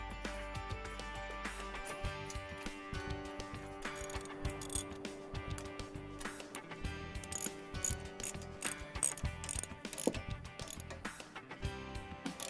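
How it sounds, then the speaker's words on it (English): A hand ratchet clicks steadily while tightening a bolt fitted with a lock washer and a flat washer, a rapid series of faint metallic pawl ticks close by with no talk. "Got the bolt tightened all the way in"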